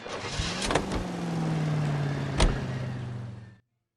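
Car being driven in the video game L.A. Noire, a steady engine drone with a couple of sharp clunks over it, running for a few seconds before cutting off abruptly.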